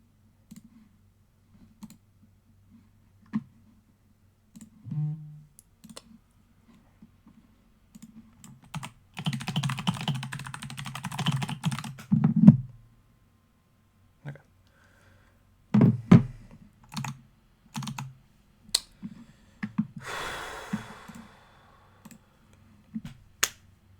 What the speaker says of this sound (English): Oh god, the typing's so loud.